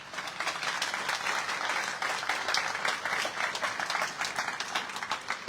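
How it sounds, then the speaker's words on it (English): Crowd clapping for home sponsors at an outdoor neighborhood block party, a sustained burst of many hands with a steady, moderately loud texture and no talking. "Please join me in giving them all a round of applause."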